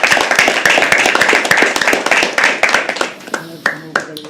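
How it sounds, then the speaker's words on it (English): An audience at a live poetry open mic claps fast and close, a dense burst of applause that thins to a few scattered claps near the end. "Can we please have another round of applause for him?"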